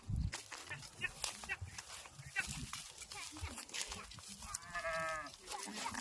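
Sheep and goats wander through farm fields, with a herd's bleats and jumbled animal calls rising over steady outdoor noise while people talk throughout.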